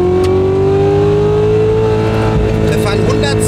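Chevrolet Corvette C7 Z06 accelerating hard in first gear, its loud engine note climbing steadily in pitch over a few seconds, close up from inside the car with a brief burst of excited talk.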